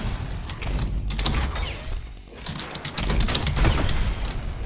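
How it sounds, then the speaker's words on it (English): Explosions in the video game ULTRAKILL crackle and boom continuously, a dense, loud barrage of blasts layered with rapid mechanical clatter throughout. "Yeah, the explosion's stopping me."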